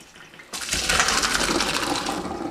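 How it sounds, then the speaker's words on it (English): Cooked pasta and its water are poured into a colander, starting abruptly as a loud, steady rushing splash that continues close up for about two seconds. "I'm just draining off my pasta"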